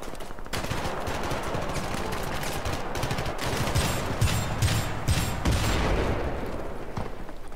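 An automatic shotgun in the game Syndicate fires in sustained rapid bursts, loud and close, with heavy blasts stacking over several seconds before easing off.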